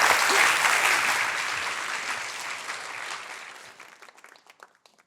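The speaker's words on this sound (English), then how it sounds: "Round of applause." A concert audience breaks into dense clapping and cheering that starts loud, then gradually thins to scattered claps before fading out.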